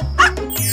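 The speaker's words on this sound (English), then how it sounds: "I have to deal with this dog first." A single close, sharp dog bark, clear and loud over a low steady hum.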